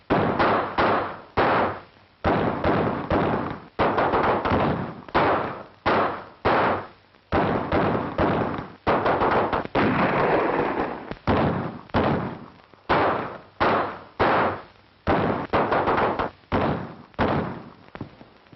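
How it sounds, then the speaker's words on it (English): Repeated sharp gunshots ring out in a 1936 western film, a dense run of loud, evenly spaced cracks with brief gaps between bursts. "Stop! Stop firing!"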